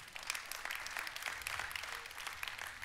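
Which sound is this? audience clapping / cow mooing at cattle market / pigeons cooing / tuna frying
audience clapping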